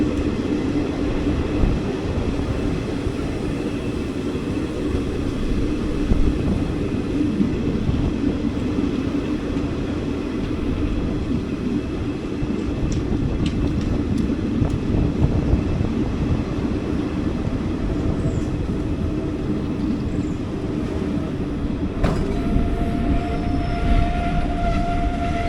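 A train stands halted at a station at a red signal, its low steady rumble and faint background hum continuing for the whole stretch with no voices.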